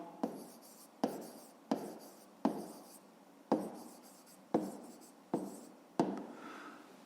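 Pen on paper writing numbers by hand during a math exercise, eight distinct scratchy strokes in a steady rhythm, close and quiet with no talking.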